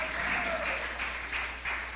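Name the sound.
church congregation applause for the Lord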